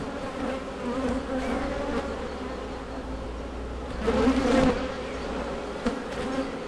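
Honey bees buzz in a steady, dense drone from a hive with a queen supersedure underway, swelling louder for a moment partway through, with no voices.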